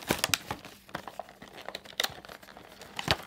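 Bakugan Battle Planet Haos Ultra Gorthion toy packaging torn and crinkled open by hand, close-up bursts of ripping and crackling plastic and cardboard in quick irregular clusters over a few seconds, with no talking.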